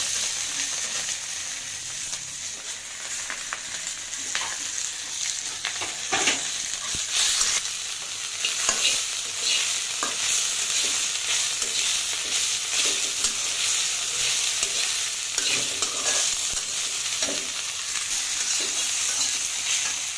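Chopped tomato frying in a pan while a utensil stirs it, giving a steady broadband sizzle broken by repeated scraping strokes, close and moderately loud with no talking.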